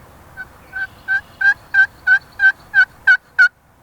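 A sanded slate pot call is worked in small ovals to yelp like a turkey, giving a series of ten clean, evenly spaced yelps that grow slightly louder, close and alone.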